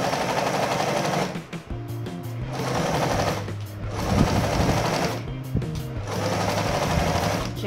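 A sewing machine stitches a fabric dish towel holder in steady rapid bursts, pausing briefly between runs and restarting, loud and close with no voices.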